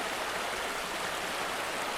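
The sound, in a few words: Poulters Burn stream flowing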